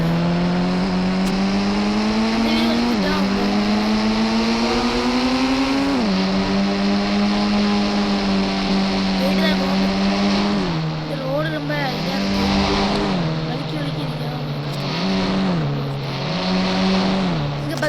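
A car engine in an Indian bike video game drones steadily throughout, its pitch rising and dropping as it accelerates and shifts, loud and continuous with no speech over it.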